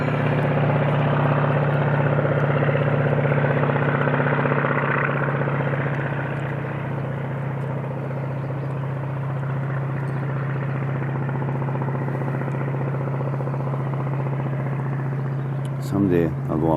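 Steady droning engine of a single-engine Otter floatplane in flight on a Canadian walleye fishing trip, loud and continuous with a strong low hum, a brief burst of talk near the end.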